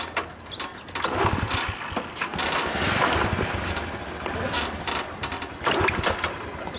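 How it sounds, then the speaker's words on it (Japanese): A Honda Super Cub 70 motorcycle engine idling nearby, a steady busy mechanical chatter with rapid ticking and slight surges in revs. "スーパーカブ70エンジン音聞かせてもらえますか"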